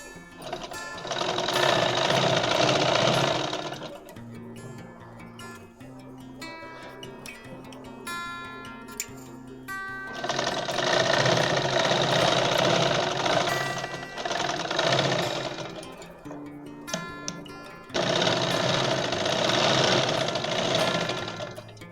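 A sewing machine stitches straight pant fabric in three long motor-driven bursts, loud and close, with quieter pauses of fabric handling and small clicks between them; no one speaks.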